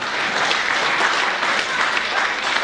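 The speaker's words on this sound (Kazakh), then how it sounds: "Шапалақ!" An audience at a wedding celebration breaks into steady applause, a dense, even wash of many hands clapping at once, loud and close throughout with no pauses.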